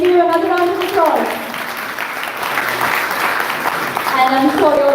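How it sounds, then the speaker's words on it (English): Audience applause after a performance at an evening devotional gathering, a sustained rush of clapping from a crowd, with a voice speaking over it at the start and again at the end. "Let's give him another round of applause."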